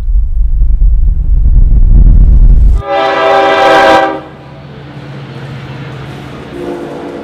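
An auto train rumbles past with deep low rolling noise, then a loud blaring horn blast sounds for about a second before the rumble fades to a quieter steady passing sound.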